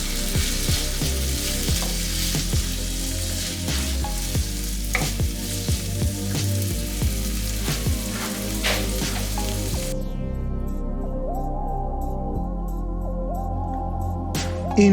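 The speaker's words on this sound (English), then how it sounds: "into a pan with some oil, the onions and garlic, and saute it till it's nice and translucent" Onions, garlic, potatoes and carrots sauté in hot oil in a pan for Turkish red lentil soup, a loud steady sizzle with crackles and occasional stirring knocks, then a softer tone near the end.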